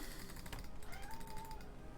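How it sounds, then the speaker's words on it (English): A cat gives one quiet drawn-out meow, faint and somewhat distant, over soft clicking from keyboard typing. "You go to the corners and meow at them a lot."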